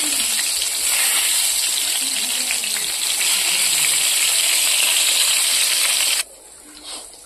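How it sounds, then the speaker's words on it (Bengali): Eggplant slices rubbed with salt and turmeric fry in oil in a frying pan, giving a steady, close, hissing sizzle that stops abruptly near the end. "তো চলো এবার আমি বেগুনটাকে ভেজে নেব।"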